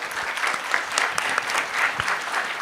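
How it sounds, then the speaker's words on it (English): Audience applause for panel speakers at a humanitarian forum, a steady, dense patter of many hands clapping at close range, with no talk over it. "Now I'd like to invite everyone to give you a big applause to our speakers."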